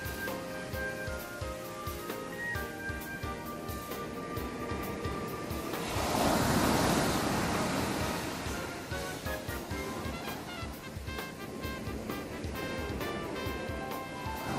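Waves breaking on a shore in a Japanese dating-sim game, a steady wash of surf under continuous background music that swells into a louder rush midway.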